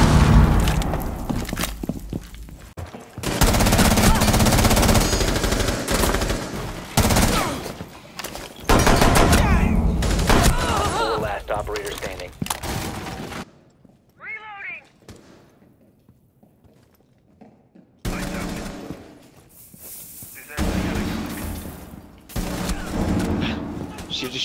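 Gunfire in a shooter video game crackles in rapid bursts and heavy volleys with booming impacts, drops to near silence for several seconds, then the loud firing resumes.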